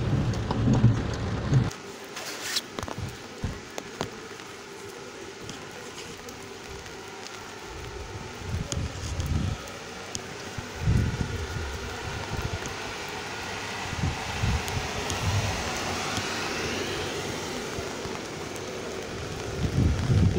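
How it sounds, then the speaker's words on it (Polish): Heavy rain pouring outdoors in the Polish village of Górsk, a dense steady hiss of drops on surfaces, with gusts and occasional close splashes and knocks, and no talking. "deszcz dosyć całkiem nieźle pada"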